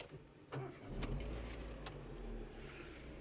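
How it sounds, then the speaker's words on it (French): Keys jangle as the key turns in a Renault Twingo II with automatic gearbox, followed by the engine cranking and catching into a quiet, steady idle, heard from inside the car at low level. "Pour démarrer, le pied sur le frein, on tourne la clé."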